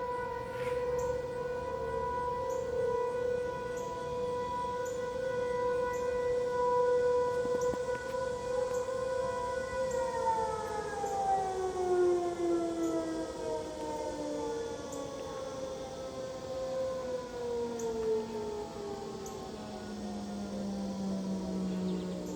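Aurora tornado warning sirens during a weekly test, a loud sustained wail that holds steady for about ten seconds, then slowly winds down in pitch, with a faint steady hum underneath and no talking.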